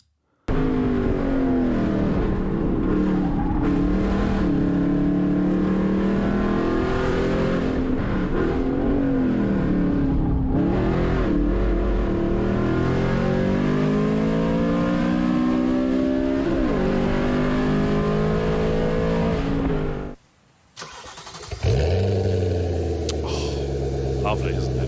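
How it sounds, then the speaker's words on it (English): Manual Audi RS4 B7 with a 4.2 V8, its exhaust revving rough and slightly metallic, loud and close with rising and falling pitch sweeps throughout; a brief drop near the end before the engine picks up again, with talk over it. "This sounds nice, rough and a bit metallic, and I like that exhaust sound."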